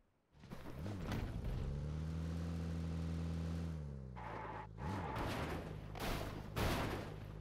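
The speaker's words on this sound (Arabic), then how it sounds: "صوت سيارة" Steady engine drone with shifting pitch like a revving car in a game, joined later by bursts of sharp crackling noise, continuous and loud.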